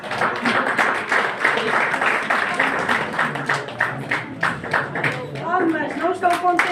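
Audience applause at a journalism diploma ceremony, with dense clapping running steadily through the whole stretch while a voice talks over it near the end.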